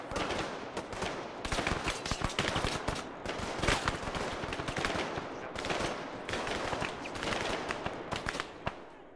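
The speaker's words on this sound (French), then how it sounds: "je tire" Gunfire in the Arma 3 military game, a sustained barrage of rapid automatic shots and scattered single cracks, dense and continuous, mid-distance and fairly loud with no talk.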